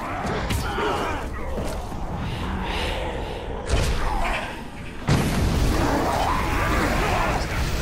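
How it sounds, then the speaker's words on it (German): Booming explosions and heavy thuds in the video game Middle-earth: Shadow of Mordor, two sharp impacts cutting through ongoing battle noise and crowd-like shouting, with game voices talking throughout. "Was ist da explodiert?"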